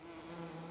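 Bees buzzing around beehives in the farming game Farming Simulator 15, a soft, sustained droning hum that holds steady for under a second, quiet and alone.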